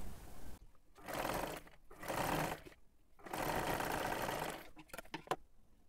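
Sewing machine stitching the lining of a kurti in several short bursts separated by brief pauses, close and moderately loud, ending with a few quick clicks.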